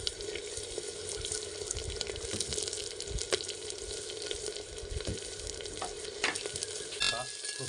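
Fresh dhungar leaves, buds and ginger frying in oil after cumin, a steady soft sizzle with occasional spatters and stirring clicks close by, quiet overall.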